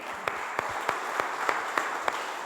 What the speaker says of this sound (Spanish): Damos un aplauso fuerte al Señor.